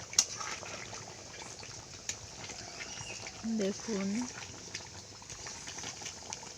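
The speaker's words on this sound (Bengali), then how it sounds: "জলটা ফুটছে" Water comes to a boil in a pot over a strong fire while mutton is being cooked, a soft, faint bubbling hiss running underneath a person talking.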